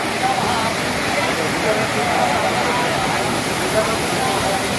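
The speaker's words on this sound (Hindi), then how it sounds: "यहाँ पे जो पानी गिर रहा है ना," Water pours hard over a Shiva lingam at Panchalineswar Temple in Odisha, a dense, steady roar of falling water that continues unbroken and close by throughout.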